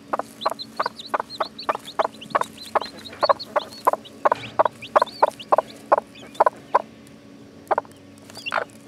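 A mother hen clucks beside newly hatched chicks that are still drying off, with a rapid, regular series of close, clear clucks and occasional higher peeps, and no talking.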